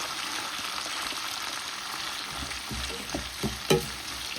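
Onions and curry leaves sizzle in a hot pan for a fish curry, a steady close frying hiss, with a few spoon stirs and scrapes clattering in near the end.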